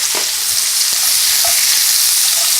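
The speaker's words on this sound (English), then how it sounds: "going to go ahead and add our apples and our onions. We stir this really good" Apples and onions hiss loudly in a hot frying pan, a dense continuous sizzle with a few soft stirring scrapes, close up and with no one talking.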